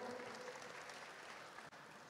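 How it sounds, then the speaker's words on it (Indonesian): Audience applause welcoming a committee chair at the opening ceremony of a medical society meeting in Yogyakarta, a steady wash of many hands clapping at moderate distance, fairly faint and even throughout. "boleh kita berikan tepuk tangan yang meriah"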